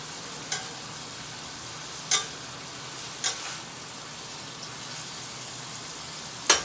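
A chicken and vegetable stir fry with bean sprouts sizzles in a pan as a steady, soft hiss, with a few sharp clicks from stirring now and then.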